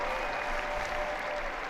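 A large outdoor crowd applauds as Pope Francis appears for the Angelus, a dense, even wash of clapping heard at a distance, steady for the whole moment.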